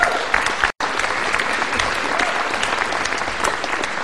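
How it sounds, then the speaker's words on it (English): Students at an end-of-year school celebration break into steady, dense applause that fills the room, dropping out for a split second early on before resuming at full strength. "I want you to give yourself an applause for what you have accomplished"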